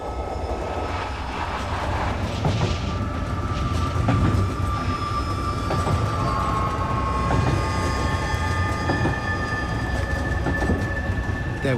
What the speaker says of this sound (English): followed the train as it rumbled across the Siberian landscape